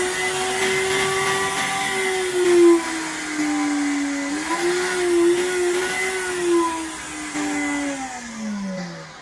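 A stainless steel commercial blender with its jug fitted runs continuously, giving a loud, steady motor whine whose pitch rises and dips slightly as the speed shifts. No one speaks.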